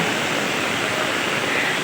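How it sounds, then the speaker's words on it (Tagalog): Heavy rain pouring down steadily after a long dry season, a dense, constant hiss filling the whole stretch with no voices. "Lakas naman ang ulan."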